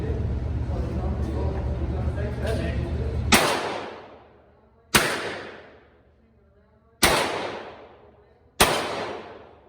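Smith & Wesson revolver firing Winchester .38 rounds, four sharp loud shots spaced a second or two apart, each followed by a ringing outdoor echo that dies away, with a steady rumbling background before the first shot.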